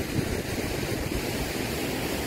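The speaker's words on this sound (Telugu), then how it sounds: "ఇది అసలుది వాటర్ ఫాల్ కనిపిస్తుంది కదా, ఇది మెయిన్ వాటర్ ఫాల్" Gudguda waterfall at Jeranga, Odisha, gives off a loud, steady roar of falling water with low rumbling wind buffeting throughout, and no voices.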